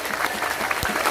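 An audience at a sholawat gathering claps loudly in a brief burst of dense, continuous applause.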